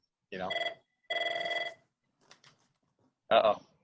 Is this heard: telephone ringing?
yes